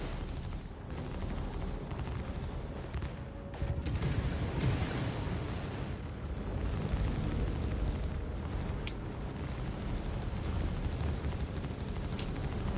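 Sustained video-game gunfire aimed at a Hammerhead vehicle, a steady mid-distance din of shots and blasts with a few brighter cracks, continuous across the whole stretch with no talking.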